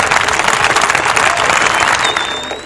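Audience applause rings out for the host of a live internet talk show, a dense, steady wash of clapping at full volume that stays loud throughout and tapers slightly at the very end.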